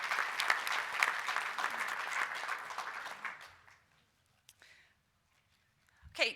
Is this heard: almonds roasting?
no